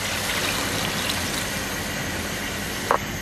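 Two glasses of water pour into a cooking pot of mutton biryani base with onions and tomatoes, a steady broadband splashing rush lasting throughout, close and fairly loud.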